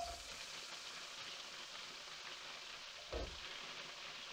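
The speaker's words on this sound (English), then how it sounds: "that is the mushrooms sizzling away nicely there" Mushrooms fry in a pot, a faint steady sizzle with a soft clunk of stirring partway through, heard close and alone without talk.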